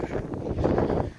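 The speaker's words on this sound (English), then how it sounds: "Also, it's super windy, guys." Strong wind buffeting a microphone outdoors on a turkey scouting trip, a continuous low rumbling roar that swells and dips, with no talk.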